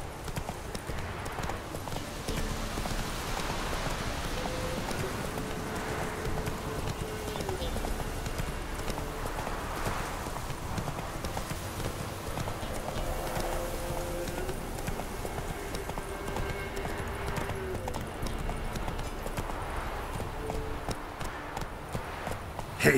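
Horse hooves gallop in Witcher 3, a steady rhythmic clip-clop that runs without a break under a constant wash of game ambience and music, with no talking.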